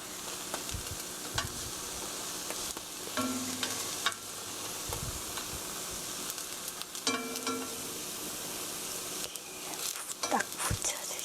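Green onion egg roll fries gently over low heat in a pan, a soft steady sizzle broken by occasional clinks and scrapes of a utensil, with someone talking over it now and then.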